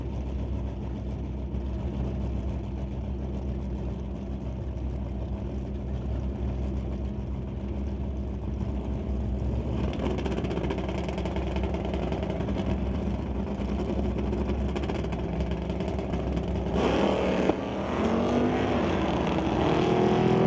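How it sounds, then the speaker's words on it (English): Drag racing at an ET bracket event, a 1980 Chevy Malibu lined up against a Ford Falcon: steady loud engine roar throughout, rising in intensity near the end as the cars launch, with no talk. "Next up, David Rastad, dialed at 1187 in the 1980 Chevy Malibu. He'll race Dustin Hunter, dialed at 908 in the Ford Falcon."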